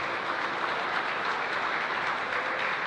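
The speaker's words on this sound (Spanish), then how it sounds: "muchas gracias por el aplauso" Applause from a congregation in a church during Mass, a dense, steady wash of many hands clapping throughout.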